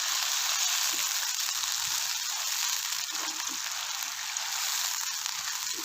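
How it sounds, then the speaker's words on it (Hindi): Minced keema fries in a pan for Old Delhi style aloo matar keema, cooking until its own water dries off. A loud, steady, close sizzle and crackle runs throughout with no talking. "यहाँ पे हमने कीमे को इतनी देर भूनना है जब तक इसका अपना पानी अच्छी तरह से खुश्क ना हो जाए"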